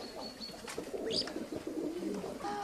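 Pigeons at a small private zoo give low, rolling coos, several birds calling at close range with occasional higher chirps in between.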